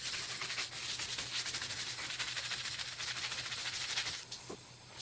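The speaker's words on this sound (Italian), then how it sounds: "poi strofino bene con la spazzola non troppo ruvida" A brush that is not too rough scrubs mould off a household surface, giving close, steady back-and-forth rubbing strokes in a continuous rhythm with no voices.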